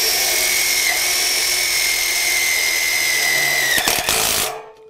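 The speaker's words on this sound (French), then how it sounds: "l'idéal c'est de disposer comme moi d'une visseuse à choc" An impact driver whirs loudly and steadily, sinking self-drilling screws through the base plates of aluminium sliding-gate pillars, then cuts off abruptly near the end.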